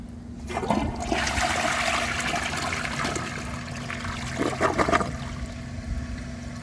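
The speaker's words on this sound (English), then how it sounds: "it pretty much flushes normally, but with less water in the bowl" Vortens Vienna toilet from 2001 flushing with less water than usual in the bowl, a close rushing swirl of water that builds, then trickles and gurgles as the tank refills.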